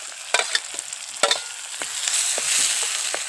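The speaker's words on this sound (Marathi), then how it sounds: "कांदा भाजलाय आणि टोमॅटो टाकूया." Onion and tomato frying in plenty of oil in a pan, with a steady sizzle broken by several sharp clicks and scrapes of a spoon stirring, close, the frying hiss growing slightly louder toward the end, no talk.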